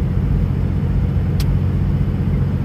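Cummins-powered truck with an Allison transmission cruising on the road, a steady loud low engine drone and road rumble running throughout with no gear change, plus one brief faint hiss partway through.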